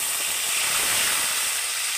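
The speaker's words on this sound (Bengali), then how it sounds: "আর এখন আমি দিয়ে দেব টমেটো কুচি" Chopped tomatoes dropped into hot oil left from frying pointed gourd, giving a steady, close sizzling hiss with no break across the whole moment.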